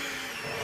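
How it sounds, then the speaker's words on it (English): A kitchen blender running at a steady pace, a dense, loud whirring roar that fills the brief moment without pause. "I don't really know how this blender works."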